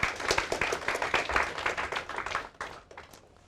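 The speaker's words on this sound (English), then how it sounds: "Please clap for him." A crowd breaks into applause, dense rapid clapping that holds steady and then thins out and fades toward the end.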